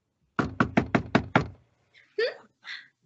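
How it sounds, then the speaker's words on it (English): Six firm, evenly spaced knocks land on a dressing room door as a radio play sound effect, loud and close, followed by a brief voice responding. "There's her dressing room over there. I'll knock on the door."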